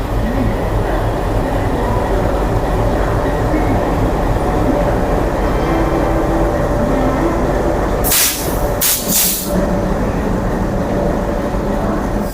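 The Bareilly–New Delhi Intercity Express rolls into Moradabad Junction with a loud, continuous rumble and rhythmic wheel clatter, close by. Sharp bursts of air hiss come near the end.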